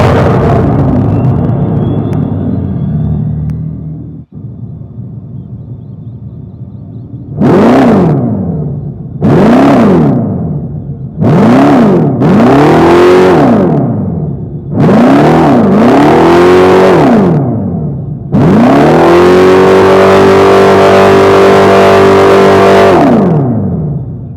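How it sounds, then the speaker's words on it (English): A 2025 Dodge Charger Daytona R/T Plus with a dual electric motor setup and Fratzonic synthetic exhaust. It opens with a steady idle drone, then gives four separate loud revving swells and a final longer, sustained roar, all close and with no talking. "that was the sound of the Dodge Charger's dual electric motor setup"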